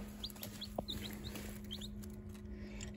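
Baby chicks kept warm under a heat lamp in a classroom give faint, high, quick peeps in short scattered bursts over a low steady electrical hum.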